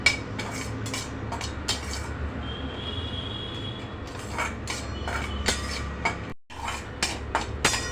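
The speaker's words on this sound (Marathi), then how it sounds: "पण याला असं छान भाजून घेणार आहोत पीठ लालसर होईपर्यंत" Wheat flour roasting in ghee for a traditional sheera, stirred continuously in a pan; dense scraping and clattering of a spoon on metal runs throughout, close and busy, with a brief pause near the end.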